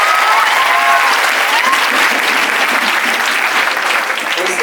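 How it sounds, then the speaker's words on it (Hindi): An audience at a student exam guidance seminar breaks into loud, dense applause that carries on evenly for several seconds before easing slightly at the end. "अच्छा लगे तो ताली दे दे।"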